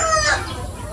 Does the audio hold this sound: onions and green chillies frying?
no